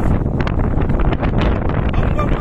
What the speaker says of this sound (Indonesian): Kita sementara memantau angin puting beliung